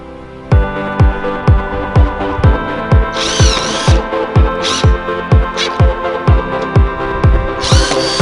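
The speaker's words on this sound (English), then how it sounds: "we're going to drill everything in and make sure that it's all set up" A power drill bores repeatedly into a van's roof while solar panels are being installed. The motor whines loud and close, cutting in and out in short, regular bursts, with a few harsher grinding spells.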